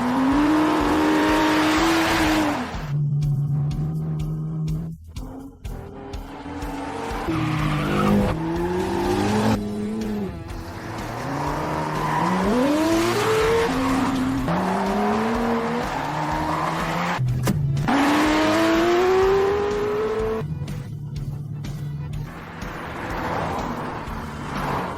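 Cars race down a winding mountain road, engines whining as they rise and fall in pitch through repeated shifts, with long tire squeals and skids through the bends, loud and close.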